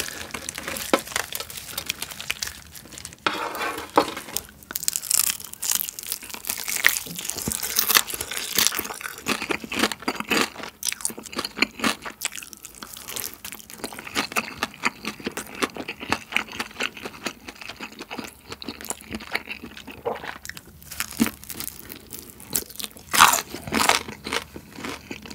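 Crunchy fried whole chicken eaten up close, loud repeated crisp bites and crackling chews in an irregular rhythm over about twenty-five seconds, no speech.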